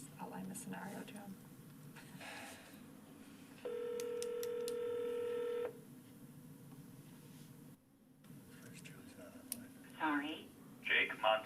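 Telephone dialing tones from a phone call placed during a school board meeting, a short sequence of beeps followed by a steady tone lasting about two seconds, with talk before and after.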